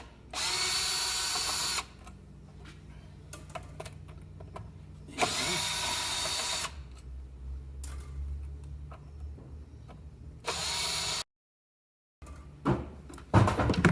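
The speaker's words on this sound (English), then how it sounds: "we're going to take the cover off of the motor." Power drill taking the cover off a Bridgeport 2HP motor, three loud whirring bursts of a couple of seconds each, separated by clicks and handling noise, close by with no talk.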